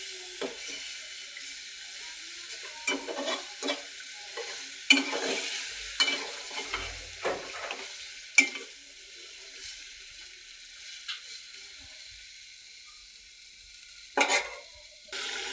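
Poya fish frying in a pan with a soft sizzle and intermittent scraping stirs, faint and close, spaced irregularly, with no one speaking.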